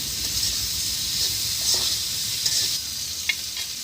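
Chili dropped into a hot cooking pan sizzles with a bright, steady hiss, close and fairly loud, with a few soft clinks of the utensil and no talk.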